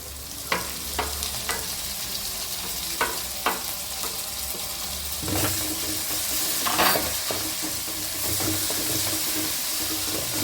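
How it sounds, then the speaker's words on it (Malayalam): Chopped tomato frying with onions in a pan for an aval upma, a steady close sizzle with a few scraping stirs and clinks over the continuous hiss. "അടുത്തായിട്ട് നമുക്ക് ഇതിനകത്തോട്ട് നമ്മൾ അരിഞ്ഞു വെച്ചിരിക്കുന്ന തക്കാളി അതും കൂടെ ചേർത്ത് കൊടുക്കാം."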